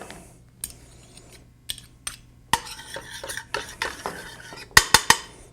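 Mustard being stirred into a pork chop sauce in a pan, with a utensil scraping and clinking against the metal in scattered strokes that grow busier and end in a few sharp, close taps.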